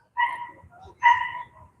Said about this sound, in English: The funny thing about that dog is he sounds more like something squeaking